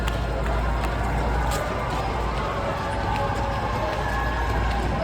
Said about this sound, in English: You can hear the crowd shouting.